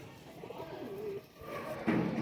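Pigeons coo nearby in a soft, rolling run of low calls, with a brief lull and then a louder burst of fluttering noise at the end.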